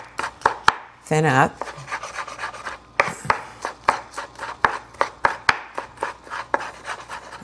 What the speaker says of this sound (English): So I'm gonna just mince the garlic.